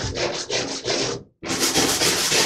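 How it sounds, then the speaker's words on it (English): A brush scrubs shower tile grout treated with Grout-eez cleaner in loud, close, rhythmic back-and-forth strokes, pausing briefly before resuming more intensely. "And just start scrubbing away."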